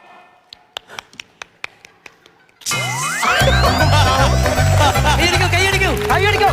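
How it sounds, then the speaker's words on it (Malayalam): About seven sparse, sharp hand claps ring out at an uneven pace in a quiet room. A loud burst of music then cuts in abruptly and drowns everything else. "ഓക്കെ, എല്ലാവരും കൈയടിക്കൂ പ്ലീസ്."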